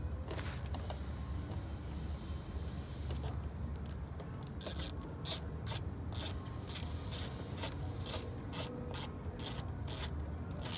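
Rapid ratchet clicking from tightening the final bolt on a Dodge Charger bumper, a steady run of close, regular clicks over faint mechanical background with no talk.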